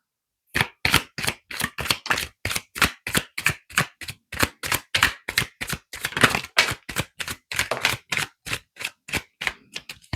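Tarot cards shuffled and drawn from a deck: a rapid, steady series of crisp, close slaps and riffles, about two to three per second, continuing alone with no talk for roughly ten seconds.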